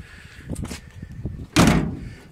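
Car door slammed shut onto a homemade striker plate, one loud, solid bang after a few softer handling clunks and rattles.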